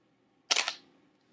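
A single-lens reflex camera fires its shutter once while photographing moving water outdoors, a crisp close mechanical snap with a short trailing whir and nothing else around it.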